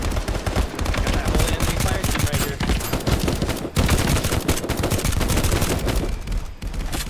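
Dense gunfire in the GoldenEye 007 VR mod, including shotgun blasts, heard as loud rapid overlapping bursts that run almost without a break and sit close to the listener.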